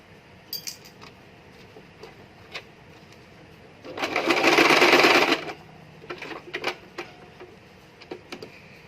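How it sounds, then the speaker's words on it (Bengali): A sewing machine stitches a neck design on a garment, running in one steady whirring burst of about a second and a half, surrounded by soft clicks and handling taps from the fabric and machine. "অপর সাইডটাও সেলাই করে নিচ্ছি।"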